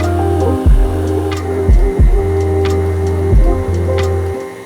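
An electric mixer beats butter and sugar together in a bowl, a loud, close motor hum with repeated dips and clunks as the beaters knock the bowl, no speech.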